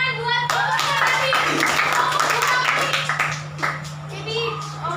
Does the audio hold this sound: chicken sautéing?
no